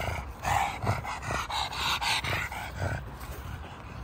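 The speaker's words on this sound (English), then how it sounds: "She's the best dog." A dog pants quickly and close by in rhythmic breathy bursts, with a soft whimper mixed in.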